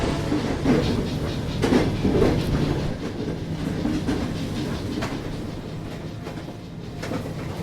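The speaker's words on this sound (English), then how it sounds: "That's a badass train." A train rolls past in a video game set in a Tesla factory, its steady rumble overlaid with rhythmic clickety-clack of wheels over rail joints, loud and continuous with no voices.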